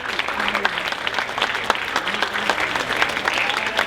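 A theater audience breaks into applause, a dense, steady patter of many hands clapping at moderate loudness for a few seconds.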